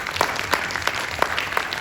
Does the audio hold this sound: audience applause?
yes